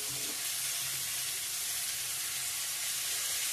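Mixed vegetables fry in a pan with turmeric, giving a continuous, even sizzle and hiss close by, with no voices.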